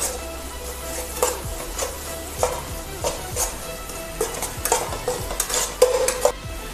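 A spoon scrapes and clinks repeatedly through egg roast masala with garam masala in a pan, the stirring knocks coming at an uneven rhythm over a low, steady sizzle.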